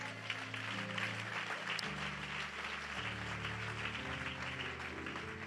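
A church congregation applauding together, a steady wash of clapping at moderate distance that holds throughout with a faint murmur of voices underneath.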